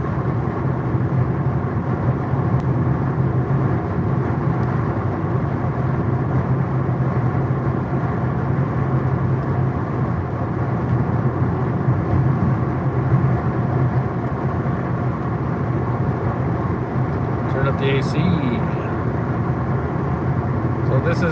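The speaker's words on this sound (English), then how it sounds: "That guy's got a muffler problem." A loud car exhaust with a muffler problem rumbles past on a road, a broad steady roar that holds throughout at moderate distance, with no talk over it.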